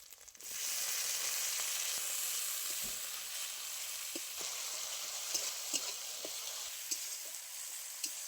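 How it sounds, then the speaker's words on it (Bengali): Chopped tomato sizzles loudly in a pan of fried onion, ginger and garlic, a steady close hiss broken by occasional stirring scrapes and small pops, with no talk. "টমেটো দিয়ে বেশ কিছুক্ষণ কষিয়ে নিয়েছি"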